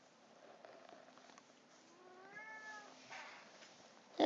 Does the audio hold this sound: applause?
no